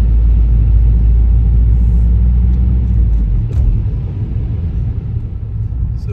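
Inside a car pushing through deep floodwater on a flooded road, a heavy low rumble gives way midway to a rougher, washing surge as the water churns around the car. The sound is close and continuous, with no voices.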